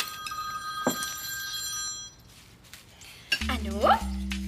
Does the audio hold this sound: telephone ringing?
yes